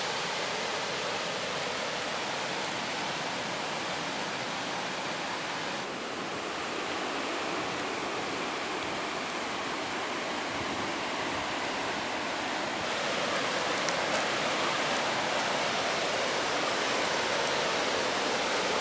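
Broad, steady roar of the Ostúa River and the Chorros de Santa Cruz waterfall in Guatemala, heard from a hammock bridge above the pool, a constant rushing wash that swells slightly louder toward the end, with no voices.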